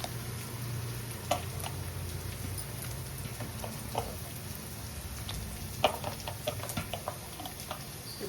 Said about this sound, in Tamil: இப்போ வந்து குழம்பு நல்லா கொதிக்குது